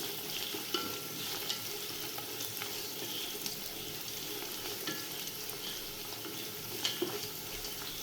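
Ingredients lightly sautéed in a pan for fried chicken biryani, a soft continuous frying sizzle with occasional stirring clicks, faint and even throughout.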